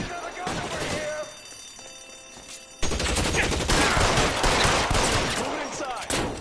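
A shootout in the video game LA Noire gives a dense, loud burst of overlapping gunfire that swells after a quieter stretch with scattered shots, as voices call out over the noise.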